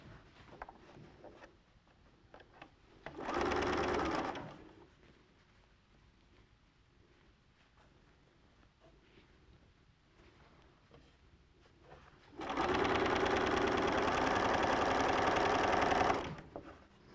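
Domestic sewing machine stitching fabric quilt blocks, two loud steady bursts of fast whirring, a short one and a longer one, separated by quiet room sound.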